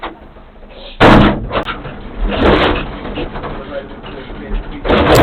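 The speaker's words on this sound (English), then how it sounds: "I'm going to close this door" A door is shut at a police station with a sudden heavy thud, then further knocks and rattles follow, and voices talk throughout.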